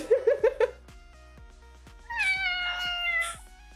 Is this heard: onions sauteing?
no